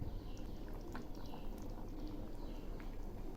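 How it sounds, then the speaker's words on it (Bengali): Jackfruit and prawn curry gravy simmering in a pot, a soft steady bubbling and popping that stays faint and close with no talk over it. "রান্নাটা প্রায় হয়ে আসছে, আর কিছুক্ষণ ফুটাবো।"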